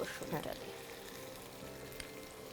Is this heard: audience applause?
no